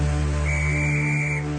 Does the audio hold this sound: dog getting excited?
no